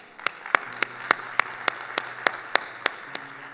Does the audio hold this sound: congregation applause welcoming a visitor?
yes